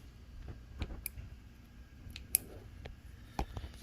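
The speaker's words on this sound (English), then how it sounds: "And I'm gonna take my scissors," Scissors snipping a small incision in a Crown Royal bag for a DIY shift boot, a few soft, separate clicks and cuts close by in a quiet room.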